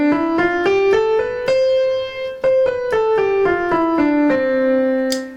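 A major scale played on a pitched instrument, about a dozen clear notes stepping up and then back down in an even rhythm, loud and close with no talk.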